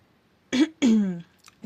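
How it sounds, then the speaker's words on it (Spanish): A narrator performs a cough, two short throaty bursts close to the microphone, the second longer and trailing off with a voiced tail. "al momento en el que él empezó a toser."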